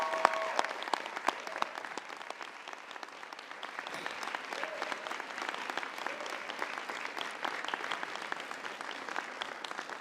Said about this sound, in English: show your appreciation of friends and family by a round of applause